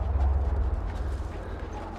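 Horse hooves in the video game The Last of Us clop in a quick, steady rhythm, close and fairly loud, then ease slightly in strength.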